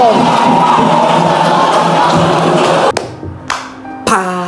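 Audience at a junior high school quiz competition final bursts into loud, dense clapping and cheering that fills the room, then breaks off into short pauses and a final renewed burst.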